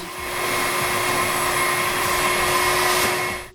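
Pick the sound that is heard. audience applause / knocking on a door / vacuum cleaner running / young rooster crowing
vacuum cleaner running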